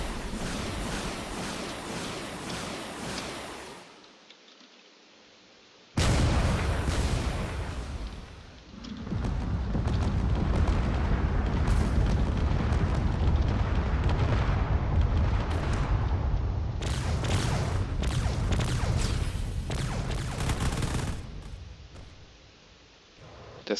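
Spaceship weapons fire and explosions roar through a drone battle video game, a dense, loud wall of booming blasts and rumbling impacts that surges, drops away briefly and returns.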